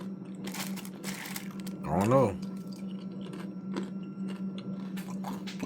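Dry Nature Valley Honey Almond cereal with little almonds crunched close up in the mouth, crisp bursts scattered across the clip around a short spoken remark and a steady low hum.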